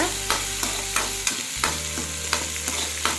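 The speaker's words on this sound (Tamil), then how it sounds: "வெங்காயம் சேர்த்து நல்லா வதக்கிக்கோங்க" Onions sautéing in a pan for a broad bean stir-fry, with a steady sizzle and regular scraping strokes of a spatula about every third of a second, close up and without talk.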